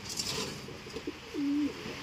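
Racing pigeons at an old-bird derby loft, wet from the rain, give one drawn-out coo near the end over a soft, steady rain hiss, with a few faint calls before it.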